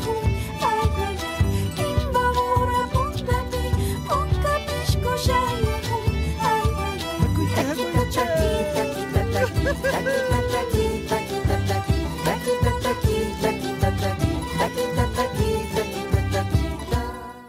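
Chashpishka tune played on harps, violins, mandolins, guitars and bass, a dense, steady and loud string ensemble with a lively driving rhythm throughout and no voices.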